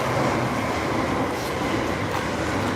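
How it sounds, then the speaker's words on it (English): Train rumbling steadily overhead while passing across a bridge above a walker, a dense continuous roar with no gaps, close and fairly loud throughout. "trains above."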